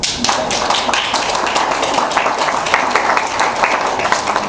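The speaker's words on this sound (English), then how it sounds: "if y'all could give them a round of applause" Dense, sustained applause from an event audience for the organizers, steady and loud throughout with many overlapping claps.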